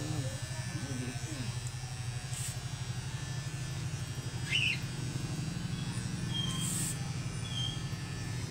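An electric shaver hums steadily and quietly through a haircut and shave, a low continuous buzz with faint bird chirps in the background.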